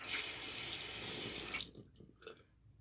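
A bathroom tap runs steadily for about a second and a half while water is splashed on the face during a wet shave, then cuts off, leaving faint drips and splashes.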